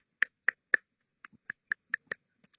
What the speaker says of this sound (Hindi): वेलकम, जोरदार ताली।